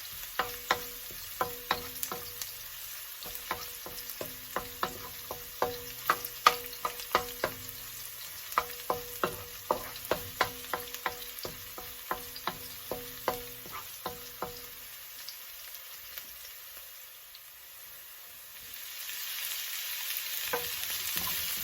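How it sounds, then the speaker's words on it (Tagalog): Garlic frying in a pan for chicken mixed vegetable lumpia filling, a continuous sizzle punctuated by regular scraping strokes of a utensil stirring, steady and close, fading to a softer hiss near the end. "Papupulahin lang natin ng konti ang ating garlic"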